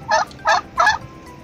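A rooster on a Turkish farm calling close by in three short, loud, evenly spaced bursts, then falling quiet.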